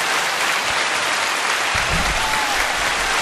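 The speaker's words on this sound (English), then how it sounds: "The crowd is excited" Dense crowd applause fills the whole stretch, loud and continuous, with a low rumble joining in partway through.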